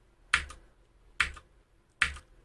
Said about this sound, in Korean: 키보드 F4입니다. 갖다 놓고 눌러주면 돼요.